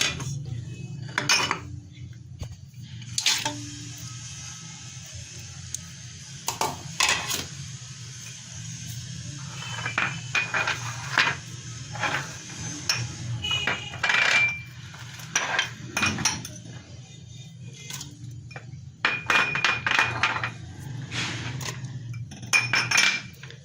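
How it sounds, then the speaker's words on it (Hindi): Garlic cloves, a piece of ginger and other ingredients for shami kabab go into a pressure cooker, making steady metallic clinks, taps and knocks of utensils against the pot in a kitchen with a low background hum. "ये हम कुकर में सब सामान डालकर इसमें 1 गिलास पानी डालेंगे।"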